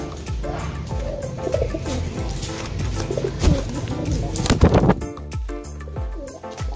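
Soft pigeon cooing from a close-up Losdor racing pigeon, low murmuring coos mixed with rustling and background noise, moderately quiet and continuous.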